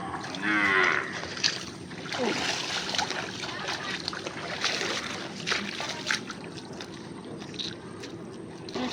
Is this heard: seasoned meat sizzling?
no